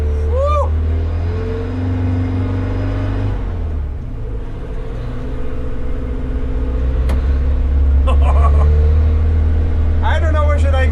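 Old Mercedes car driving and shifting gears, a loud low engine rumble rising and settling between gear changes, while people talk and laugh inside the cabin.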